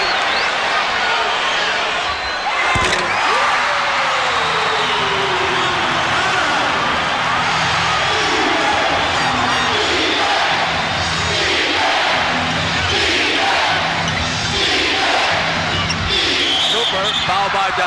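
Crowd roar fills a 1983 Spurs versus Lakers basketball game in San Antonio, a dense, steady arena din running throughout with a sharp thump near the start and commentary-like voices woven underneath.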